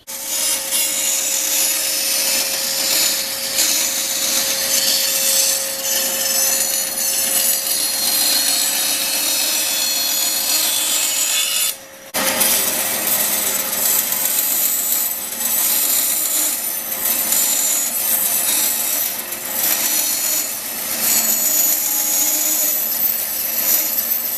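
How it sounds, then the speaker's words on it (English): A bandsaw cuts a wooden khopesh with a steady, loud, continuous rasping whine that runs with little variation, broken once by a momentary pause near the middle before the cut resumes. "I'll just take her over to the bandsaw now and chop off the bulk of it."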